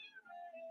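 A house cat meows once in a drawn-out, rising then falling call, close and fairly quiet in an indoor room, with no talking over it.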